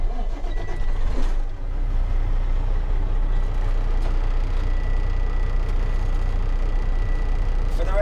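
A Class A truck's diesel engine cranks and catches as the key turns, settling into a deep, steady rumbling idle close by, with a brief hiss-like burst early on and no talking.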